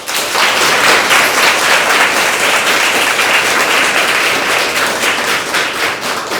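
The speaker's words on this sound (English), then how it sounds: "let us hear a big round of applause to them." Audience at an institutional talk event applauding, a dense, sustained wash of many hands clapping that holds steady for several seconds, loud and close, with no voices over it.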